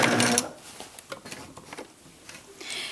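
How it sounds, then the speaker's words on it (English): Sewing machine stitching trim onto the edge of a fabric challah cover: a loud burst of rapid stitching at the start, then sparse clicks and light handling noises, with another short run of stitching near the end. "We're going to sew right up close to this next edge of the cover."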